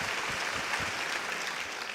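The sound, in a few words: audience applause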